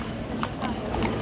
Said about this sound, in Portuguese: Olha, que cavalo bonito aqui, ó.